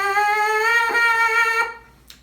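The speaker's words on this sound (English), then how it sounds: "And then when we put the mouthpiece on, it sounds like this." Lips buzz into a bare trumpet mouthpiece, making a steady, reedy, nasal tone with small wavering bumps. It holds for about a second and a half, then stops, leaving a brief faint click.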